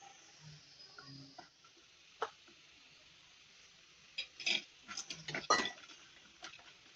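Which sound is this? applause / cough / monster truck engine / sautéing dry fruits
sautéing dry fruits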